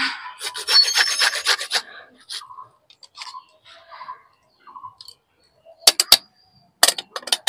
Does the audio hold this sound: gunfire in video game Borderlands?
no